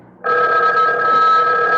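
A telephone starts ringing abruptly in a radio drama scene, a loud, steady bell tone that sounds close and alone after a brief quiet moment.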